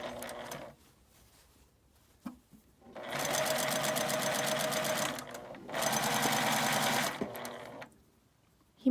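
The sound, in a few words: sewing machine stitching a seam on a drawstring bag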